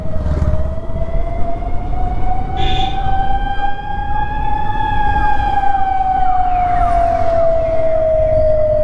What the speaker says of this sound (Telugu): వెనక అంబులెన్స్ వస్తుంది.